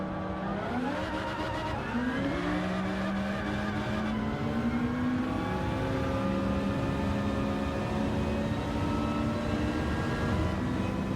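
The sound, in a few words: 700 horsepower Honda Civic drag racing in video game Gran Turismo 7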